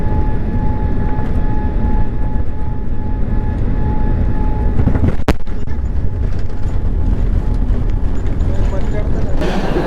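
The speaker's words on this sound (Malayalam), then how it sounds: "ഞങ്ങൾ ഇറങ്ങുന്ന ലാൻഡിങ് വീഡിയോ കാണിച്ചു തരാം" Passenger airliner landing at London Heathrow, heard from inside the cabin as a loud, steady engine and airflow roar with a sharp thump partway through, likely touchdown, and talk faintly under the noise.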